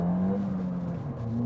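A Ford Fiesta ST with a 1.6 liter turbo engine accelerating, heard as a steady, rising engine drone that hums close and loud for a brief moment.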